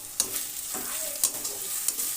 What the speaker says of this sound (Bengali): দিয়ে মশলার সাথে ভালো করে কষিয়ে নেব